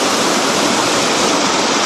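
A waterfall roars in a steady, dense, loud rush of falling water, close and unbroken, with no voices over it.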